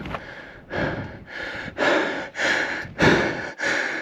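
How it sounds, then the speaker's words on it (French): Heavy, out-of-breath panting from someone climbing, close and loud, with six or so deep ragged breaths in a steady rhythm and no speech. "Désolé, je suis complètement essoufflé."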